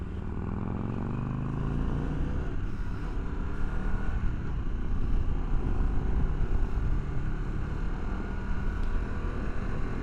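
Harley-Davidson Pan America motorcycle opened up on an open road, a loud continuous engine roar mixed with heavy wind buffeting, rising slightly in the middle as it accelerates.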